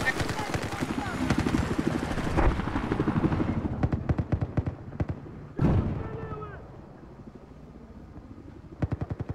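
A helicopter hovers in Battlefield 4 gameplay, its rotor thumping in a rapid steady rhythm across the whole stretch, with bursts of gunfire and a sharp blast midway, while players talk and laugh over it.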